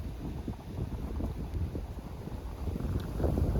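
Hard wind buffets the microphone outdoors by the water while fishing, a dense, rumbling low roar with gusty swells that never lets up, loudening slightly near the end, with no talk.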